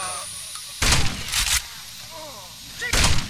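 Video game gunfire in a tactical shooter, loud close bursts with a pair of shots early and another burst near the end, faint voices chattering underneath.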